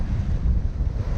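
Steady wind buffeting the microphone aboard a Bavaria 41 sailboat making 6 knots in a 7 m/s breeze among islands near Herdla, a continuous low roaring rumble with no voices.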